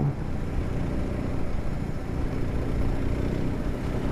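A BMW R1250R twin-cylinder motorcycle with a 136 hp engine pulls in fourth gear, a steady, close, loud drone mixed with road and wind noise, with no speech.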